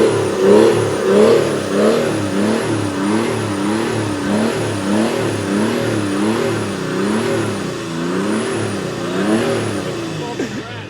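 A Mercedes OM606 diesel engine swapped into a Land Rover Defender revs repeatedly up and down in a steady rising and falling cycle, loud and close, with a faint whine riding on top.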